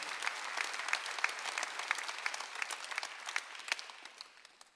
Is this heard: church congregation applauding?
yes